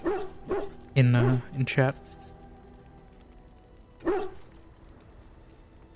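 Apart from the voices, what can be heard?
dog barking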